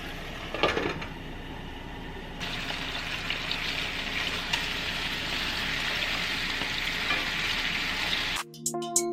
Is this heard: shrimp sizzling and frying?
yes